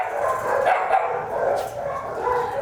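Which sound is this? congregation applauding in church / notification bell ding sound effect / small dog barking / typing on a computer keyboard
small dog barking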